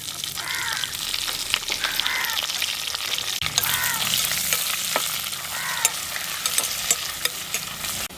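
Onions sizzle and fry in hot tempering oil for goat lung gravy, making a loud continuous crackle with stirring scrapes, while crows caw in the background.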